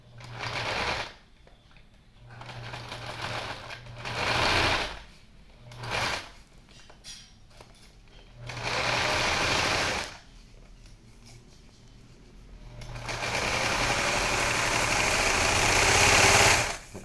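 A sewing machine stitches a small pillow in repeated bursts of rapid mechanical whirring, several short runs separated by pauses, with a longer run at the end, close and clear.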